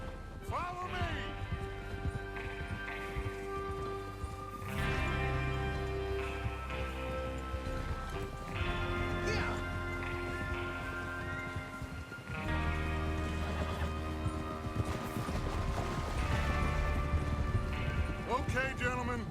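Horse hooves clip-clop steadily over a busy Red Dead Redemption 2 game soundscape with music and occasional voices, the trotting rhythm continuing throughout.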